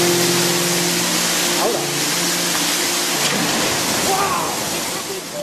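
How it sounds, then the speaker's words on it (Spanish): Water rushing from a traditional water mill's outlet against the blades of its wheel, a loud, steady, close roar that lasts throughout with faint tonal sounds on top. "La presión del agua que salía de él chocaba contra los alabes del rodeno que comenzaba a girar."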